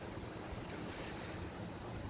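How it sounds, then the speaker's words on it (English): Wind buffets the microphone outdoors beside a 1998 Sea-doo GTX Limited, a steady broadband rumble and hiss that holds for the whole stretch with no voice over it. "I can't do anything about the wind"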